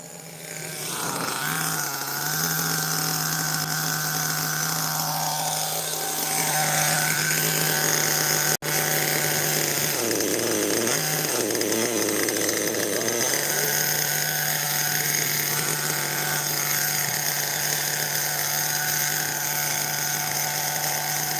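A smoky, struggling engine runs at throttle with a steady, loud drone. Its pitch dips and wavers midway before holding again, and a single sharp click cuts through.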